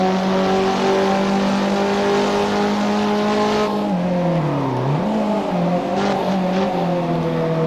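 Racing car engine at Mugello in Assetto Corsa, a loud sustained drone that downshifts with a brief engine dip near the middle, then climbs and revs again, steady and close throughout.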